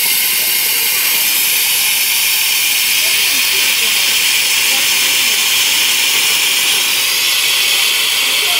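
Oil being drained from the compressor of an NGV gas tank: a loud, continuous hiss of escaping pressure that holds steady and close throughout, with no pauses.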